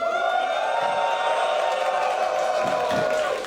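An esports crowd in a Dortmund arena roars back on cue during a TF2 tournament final, a sustained loud cheer with whoops rising over a steady hum, then fading slightly at the end.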